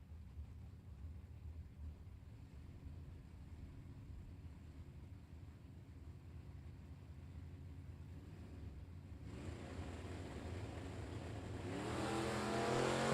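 At a drag strip, a Ford Mustang and a 2002 Firebird with a 231 V6 idle and rev, a low steady engine rumble that swells louder toward the end.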